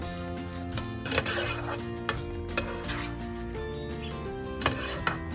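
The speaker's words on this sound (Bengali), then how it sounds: "এই মশলা ভালো করে চাল দিয়ে এটাকে কষবো" Soaked rice stirred into spice masala in a pan over low to medium flame, continuous close scraping and clinking of a utensil against metal with a soft sizzle and a few louder knocks.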